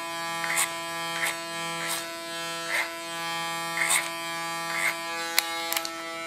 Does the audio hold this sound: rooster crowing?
no